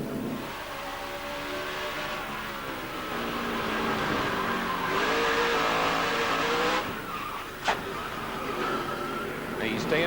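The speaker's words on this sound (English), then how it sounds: "Now you stay in the throttle to keep those rear wheels spinning so it won't run up there and back into the fence." Jeff Burton's NASCAR Nextel Cup stock car at Bristol in 2006, heard onboard, spins with the throttle held; the engine drones and rises in pitch over a rushing roar while a commentator talks throughout, with a sharp knock near the end.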